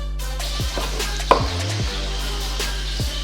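A knife cuts through pan-seared chicken thigh on a board, with several close knocks and scraping slices over a steady kitchen hum and no talking.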